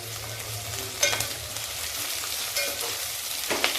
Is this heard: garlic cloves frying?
yes